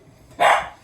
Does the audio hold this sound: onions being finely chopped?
no